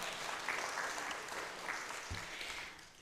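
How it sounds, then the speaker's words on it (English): A church congregation applauds steadily for about three seconds, a dense wash of many hands heard from across the room, fading slightly at the end. "So let's give these folks a round of applause."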